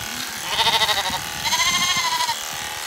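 Sheep and lambs bleat on a farm during preparation for shearing, with two long wavering calls close by over a steady background of shuffling and farm noise.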